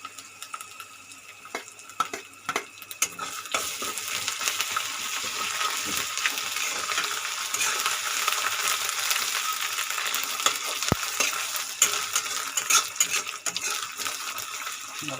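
Ginger and green chilli frying with onion in a pan for an Assamese fish curry, a steady broad sizzle that builds after a few seconds with occasional clinks of stirring, close and continuous with no talking.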